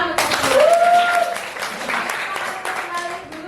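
An Indonesian school class claps hands together, a burst of applause from many children that thins out over a few seconds, with voices calling out over it.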